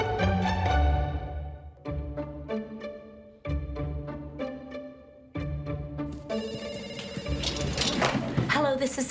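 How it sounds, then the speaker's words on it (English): A telephone rings in repeated electronic bursts with short gaps between them, loud and close, and the ringing turns brighter and busier toward the end. "we pick up the phone because it's ringing."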